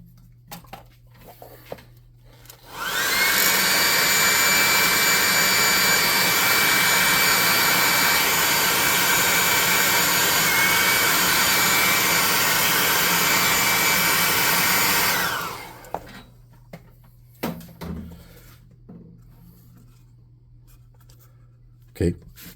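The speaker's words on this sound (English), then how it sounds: "Then we'll dry it with a hot air gun." A hot air gun drying paint on a miniature unicorn model roars in with a loud, steady blowing hiss for about twelve seconds, then cuts off, with quiet handling sounds before and after.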